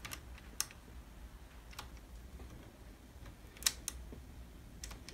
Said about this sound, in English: See, all the levers go when I depress it, and when I release it, it smoothly moves back to their original position